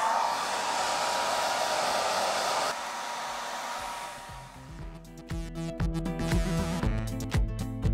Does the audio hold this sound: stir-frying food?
no